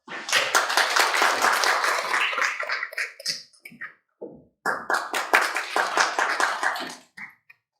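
Applause from an audience at the opening ceremony of an academic conference welcomes a speaker. Dense clapping swells for about four seconds, fades to a few scattered claps, then a second burst comes before dying away, with no talking.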